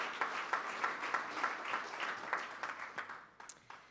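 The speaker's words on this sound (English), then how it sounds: "Let's give them a round of applause." A Rotary Club meeting audience gives volunteers a round of applause, a faint, fairly brief patter of many hands that tapers off into scattered claps.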